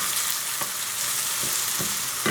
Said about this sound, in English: our onions and garlic has sauteed really well